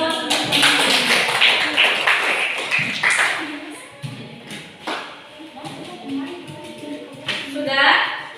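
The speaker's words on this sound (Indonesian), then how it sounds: "Silakan diberi tepuk." A classroom group of students claps after a presentation, with scattered bursts of hand claps that come and go amid steady talk from several voices, some near and some further off.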